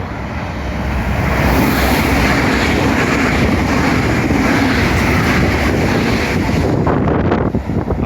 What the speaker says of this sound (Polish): mamy pendolino.